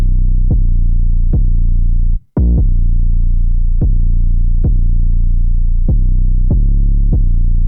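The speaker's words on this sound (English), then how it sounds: "All it is just a standard 808," Standard 808 bass line from an electronic track: loud, deep sustained bass notes with sharp attacks repeating in a steady rhythm, briefly cut to silence once before resuming.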